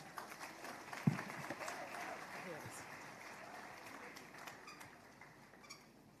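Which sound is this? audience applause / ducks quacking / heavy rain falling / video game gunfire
audience applause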